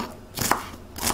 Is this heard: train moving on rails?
no